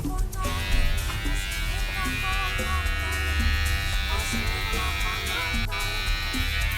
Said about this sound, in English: now we will be doing a flat trimming on these rugs using this machine called a carving machine